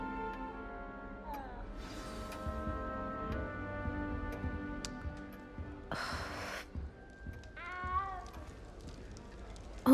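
A cat meows a few times in the Hogwarts Legacy video game, short rising calls over a steady music bed with other game sounds. No one speaks.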